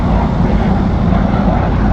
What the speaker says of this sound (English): That jet's out here doing backflips and I feel like I'm watching Top Gun right now.